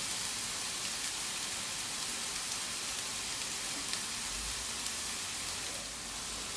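Half an onion and a crushed garlic clove frying in a pan, a steady, even sizzle with a soft hiss, close and continuous with no voices.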